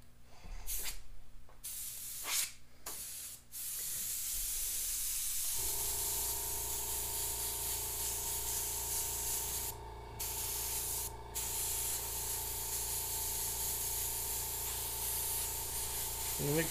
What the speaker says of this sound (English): I'm not going to spray a ton here and here.